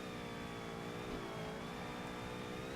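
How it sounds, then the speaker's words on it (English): A Cadillac race car engine in Forza Motorsport holds steady against its rev limiter, a loud, sustained buzzing drone with a rapid stuttering edge that runs unbroken from start to finish. "oh god, rev limiter, why?"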